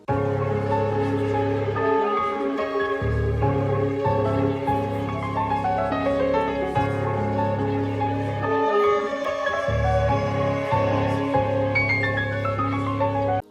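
A dark trap loop made for a beat plays on its own for more than ten seconds, with layered tonal melodies over a deep sustained bass that drops out briefly twice.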